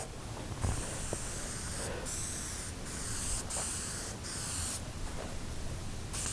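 An aerosol spray can sprays onto a van ceiling in repeated hissing bursts separated by brief pauses, close up and fairly steady.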